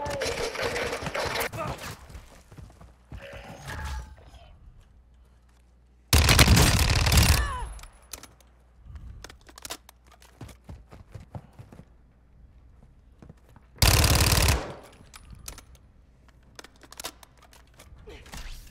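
Gunfire in the Call of Duty: Warzone 2.0 video game, two loud bursts of shots several seconds apart over quieter in-game footsteps and movement.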